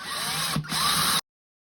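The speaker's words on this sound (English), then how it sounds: "Be careful with power tools." A power drill bores a hole through a handmade greeting-card keepsake journal, giving one steady, close whirring burst of about a second with a brief dip midway before it cuts off to silence.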